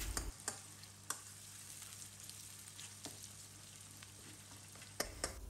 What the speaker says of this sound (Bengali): আমি এখানে অনেকগুলো পেঁয়াজ বেরেস্তা করে নিচ্ছি